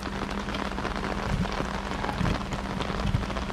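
Steady rain falls outdoors on a small Casita travel trailer, a continuous dense patter on the surface with a few heavier drips, no voices.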